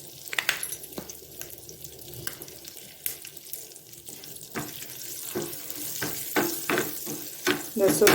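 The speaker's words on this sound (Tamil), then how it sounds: "இந்த சூட்லேயே பெருங்காயம் நல்லா பொரிஞ்சுக்கும்." Asafoetida powder sizzles in hot tempering oil with curry leaves after the heat is switched off, making a soft crackle mixed with running water and sharp clinks of a utensil nearby.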